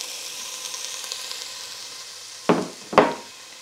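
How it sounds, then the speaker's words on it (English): Carrots sautéing in olive oil give a steady, soft sizzle close by, broken near the end by two brief louder bursts as more vegetables drop into the hot pan. "Saute my vegetables for about 10 minutes"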